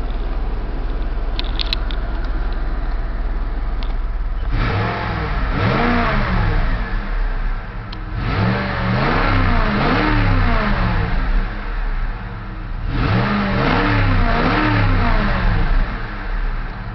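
A 2008 Cadillac DTS, a salvage car, starts and then revs its engine in loud repeated bursts, with rising and falling pitch sweeps between steadier running, close up and with no talk.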